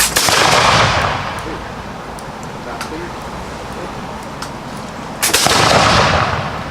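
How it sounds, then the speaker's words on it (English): Reenactors in period dress fire muskets in a unison volley at Williamsburg, Virginia: a loud, close burst of gunfire at the start, a lull with crowd noise, then a second sharp blast. "Every 15 seconds, we are required to be able to load and fire a shot in unison."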